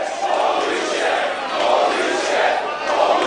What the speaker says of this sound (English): You hear this crowd?